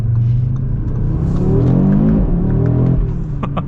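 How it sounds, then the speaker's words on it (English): A 2023 Audi RS3 engine revs loudly after a downshift into first gear, a close, rising and falling mechanical roar that fills the clip without any speech. "you can even downshift into first gear and it will absolutely"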